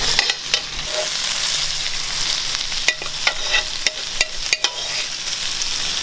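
Onions lifted out of a frying pan where burgers cook, with a steady close sizzle and a series of sharp spatula scrapes and taps.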